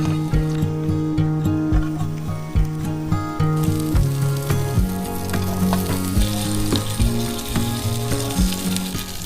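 Lobster halves filled with garlic butter sizzling on a grill, a close, steady frying crackle and hiss running under harmonic background music with a regular beat.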